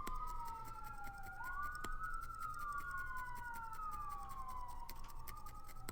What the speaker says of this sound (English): all kinds of sirens all of a sudden